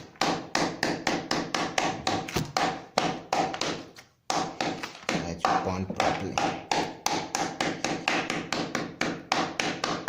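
Rapid, steady hammer blows on leather edges in shoemaking, dozens of sharp taps in a quick rhythm with one brief pause, close and loud.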